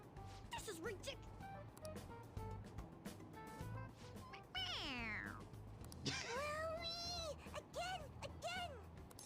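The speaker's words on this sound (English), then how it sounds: "A toy! It meows when you press on its head." A squeezable toy cat in a video game gives loud, close meows with rising and falling pitch, one long drawn-out cry in the middle and several shorter ones after, over a constant low background hum.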